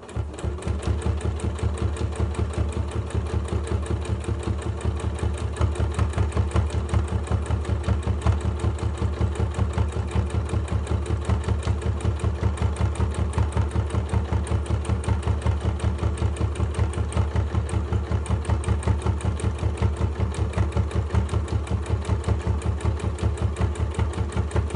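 A sewing machine stitching a six-pocket tote bag, running at a fast, even mechanical rhythm of closely spaced needle strokes, loud and continuous throughout without pause or voices.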